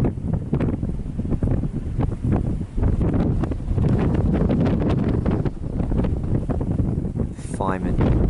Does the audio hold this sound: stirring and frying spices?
no